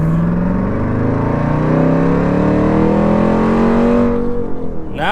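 A Jeep Grand Cherokee Trackhawk with a modified exhaust revs loudly and steadily, its engine note climbing in pitch over several seconds before cutting off sharply, heard close by with no talking.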